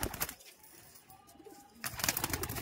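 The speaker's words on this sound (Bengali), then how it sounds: "দেখি পায়রাগুলো ছাড়া" Madrasi pigeons are released, with bursts of wing flapping and fluttering at the start and again near the end, separated by a quieter stretch with faint bird sounds.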